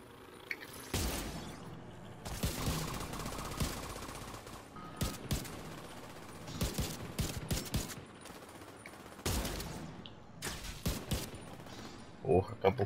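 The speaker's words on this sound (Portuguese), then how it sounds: "Soltei a torreta pra me defender dessas porra que voa aqui." Deployed turret firing a machine gun in The Division 2, bursts of rapid gunfire in irregular clusters over a quiet game backdrop, fairly faint overall with a player talking in between.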